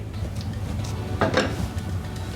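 Truffle pasta is stirred in a pan, with quiet metallic scrapes and light clinks of a utensil against the cookware, one slightly louder scraping burst midway.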